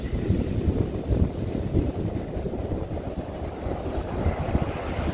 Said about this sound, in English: Very windy. Very, very windy.